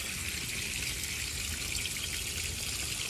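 Steady hiss of a hose spraying water onto a ceramic coated car wheel, a continuous close splashing wash with no talking.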